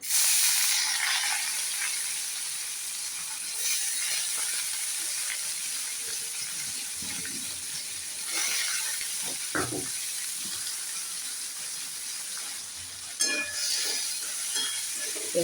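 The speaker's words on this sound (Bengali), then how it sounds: "এবার আবার এগুলো তেলে দিয়ে দেবো" Soaked chana dal frying in hot oil, a steady loud sizzle and hiss running throughout, with occasional stirring scrapes and brief pops.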